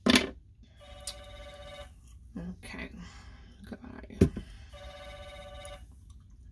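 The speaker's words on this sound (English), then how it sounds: "This phone is ringing again." An office desk telephone rings at a receptionist's station with two trilling electronic bursts, preceded by a brief exchange of soft speech and a few handling clicks.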